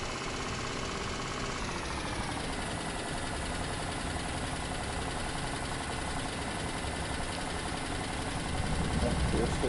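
An old bus engine idles in a countryside bus-driving video game, a steady low mechanical rumble that runs without a break and swells a little near the end.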